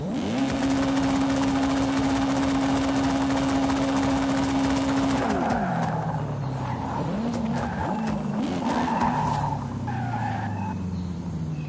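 A modified straight-six car engine in Forza Horizon 5 drones at steady high revs, then drops off as the car slows, with rising and falling revs and tire squeals afterward.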